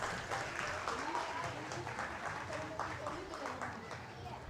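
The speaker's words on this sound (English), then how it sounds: "So give them a big round of applause." Parents and audience at a school annual cultural day give the children a round of applause, continuous clapping throughout with some voices mixed in.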